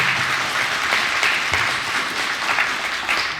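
A crowd at a political briefing event in Atlanta gives sustained applause welcoming a lawmaker, a dense, even wash of clapping that holds steady from start to finish.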